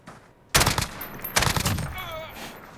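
Two bursts of STAR-21 DMR fire in Call of Duty Modern Warfare ring out, each burst a sharp loud double crack with a ringing tail, the pair spaced under a second apart, followed by a faint electronic chirp.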